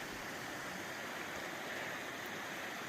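A river flowing on the Red Castle hike, a constant broadband rush of moving water heard from a short distance, steady and unbroken with no voices.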